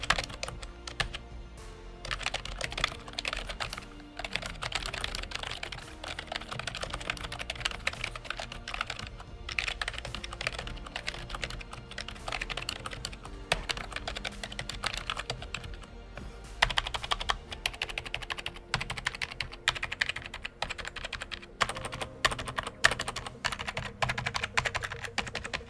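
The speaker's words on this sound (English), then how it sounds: "I'll give you a sound test so you can get an idea of what the keys on the K57 sound like." Fast, continuous typing rattles across a Corsair K57 RGB wireless gaming keyboard, with dense key clacks in irregular bursts for the whole stretch and no talking.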